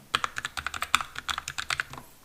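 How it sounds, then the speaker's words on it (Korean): Brisk typing on a Keychron K3 mechanical keyboard, a steady patter of sharp, close clacks for about two seconds before stopping. "이런 정도 수준으로 소음이 나는데 듣기 좋은 그냥 키보드 소리"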